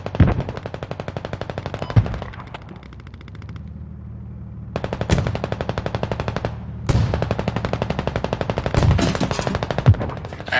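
Rapid automatic gunfire in the tactical shooter Squad during a mortar FOB offensive on Fools Road, loud bursts of machine-gun fire with single sharp shots, brief pause before fire resumes.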